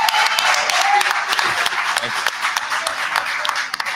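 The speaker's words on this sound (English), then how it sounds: "So I'm going to ask if everybody can give Keith Freeman a round of applause at this time." A board meeting audience claps in a round of applause, a busy patter of hands that stays fairly close, with voices talking over it.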